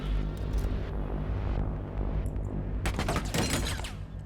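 Gunfire in a Valorant esports match, several sharp shots in quick succession near the end over a low rumbling game ambience.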